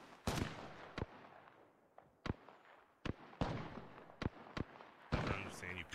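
Sharp bursts of gunfire from enemy squads in the Apex Legends video game crack out in a steady, scattered rhythm of single shots spread across the clip, loud and close, with a denser rattle near the end.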